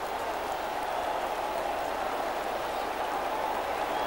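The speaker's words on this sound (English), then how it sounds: "Applause for the bowler too" A cricket crowd at a 1990 West Indies v England one-day international in Guyana applauds the bowler with a dense, steady wash of clapping that holds evenly from start to finish.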